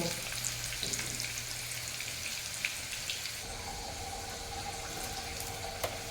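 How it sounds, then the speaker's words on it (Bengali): Potatoes fry in a pan over a high flame, giving a steady broadband sizzle with faint crackles and a few sharp pops, joined partway through by a soft watery hiss. "হাই ফ্লেমে করে মিনিট 2-3 আর একটু ভেজে নেব।"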